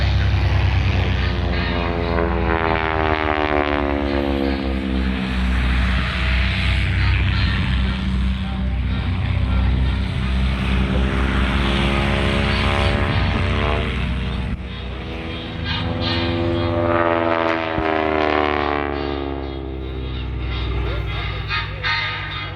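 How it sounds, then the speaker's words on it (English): An AT-6 Harvard propeller trainer roars past at the 2023 MCAS Beaufort airshow, its loud engine drone rising and falling with a sweeping pass overhead, under an announcer's voice. "The Army Air Corps called it the AT-6. The Royal Air Force and the Royal Canadian Air Force called it the Harvard."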